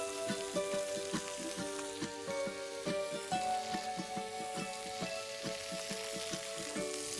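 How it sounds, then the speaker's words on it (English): Chicken roulade frying in a pan, a steady bright sizzle and crackle that stays loud and continuous throughout, with a faint musical tone running underneath. "While the chicken is frying on one side"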